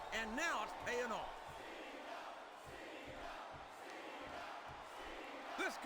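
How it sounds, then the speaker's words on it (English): Arena crowd cheering in the WWE SmackDown vs. Raw 2008 wrestling video game, a sustained distant roar of fans under commentator speech, with rhythmic thuds from the ring. "Now the fans start to cheer for him"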